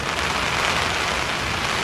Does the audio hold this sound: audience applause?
no